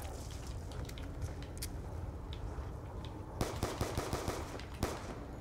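Gunfire against zombies in the Nuketown Zombies video game: a muffled rumble of game noise, then a cluster of sharp, rapid shots in quick bursts near the end, fairly loud and with no talking.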